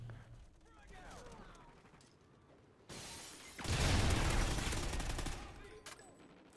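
Gunfire in Call of Duty: Ghosts starts as faint rattling, then swells midway into a loud, dense burst of automatic shots before fading back, with light mechanical clicks around it.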